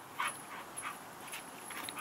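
A dog whimpers and yips softly while playing, giving a few faint, brief whines over a quiet background.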